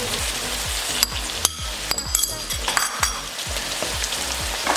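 Finely chopped green chilies and ginger garlic paste fry in a pan for a chickpea masala gravy, a loud, close sizzle punctuated by regular rhythmic thumps and scrapes of stirring.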